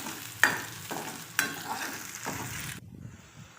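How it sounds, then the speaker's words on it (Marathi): Onion with ginger garlic paste frying for pav bhaji, a quiet sizzle with a few spaced spoon strokes against the pan, close by, fading out near the end. "कांदा जो आहे तो तळून घ्यायचा आहे।"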